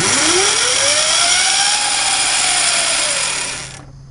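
Ariel Atom go-kart engine running during a first systems check gives a loud, close whine that rises and then falls before cutting off abruptly near the end.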